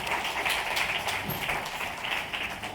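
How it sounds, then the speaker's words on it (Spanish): Sustained audience applause fills a gathering at a dental endodontics training session, steady broadband clapping from many hands lasting throughout, fairly close and even in loudness with no talking over it. "Un aplauso, por favor"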